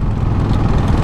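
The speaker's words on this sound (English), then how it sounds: "Low RPM, throttling up." A 2013 Royal Enfield Classic 500 single-cylinder engine pulls in fifth gear at low RPM while throttling up, a close, steady low thumping rumble over a short stretch.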